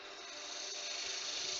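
Sandpaper held against a wooden coaster spinning on a lathe at low speed gives a continuous, even hiss of abrasive rubbing that swells slightly as it goes on, close and steady.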